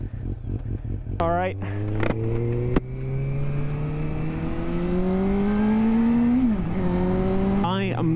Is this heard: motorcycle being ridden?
yes